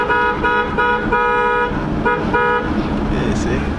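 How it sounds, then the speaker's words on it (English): Repeated car horn toots sound in short bursts, several beeps in a rhythmic pattern, close and loud, honked as a birthday greeting in a quarantine Easter drive-by, with traffic noise underneath. "give them a honk for their birthday"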